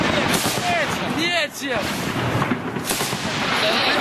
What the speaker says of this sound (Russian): Пулеметами работает снайпер.